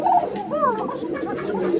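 Doyel koka pigeons at a farm loft coo together nearby, their warbling, gurgling calls overlapping in a short, steady stretch.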